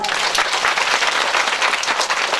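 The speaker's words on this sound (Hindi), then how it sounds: "सुचिता देवी जी, श्री रामराज सिंह राणा जी, और इन सब लोगों के लिए एक बार जोरदार तालियां।" Loud, dense applause from a large crowd at a Bhagwat Katha religious gathering, a continuous roar of clapping close and full throughout.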